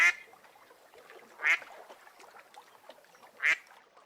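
A duck quacks three times with clear, separate calls spaced a second or two apart against a near-silent background.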